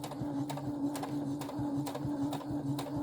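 A sewing machine runs steadily while understitching a round neck facing, with a regular mechanical hum and evenly spaced needle clicks about twice per second, close and fairly quiet.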